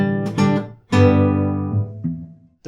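A bluegrass-style acoustic guitar outro lick from a song: a few quick plucked notes, then a sustained ringing strum that fades. Close and clear, played alone.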